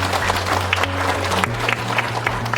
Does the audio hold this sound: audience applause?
yes